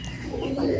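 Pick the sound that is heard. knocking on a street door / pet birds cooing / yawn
pet birds cooing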